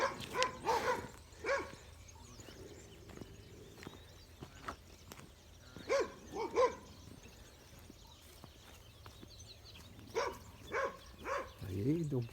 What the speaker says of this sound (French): les chiens qui gueulent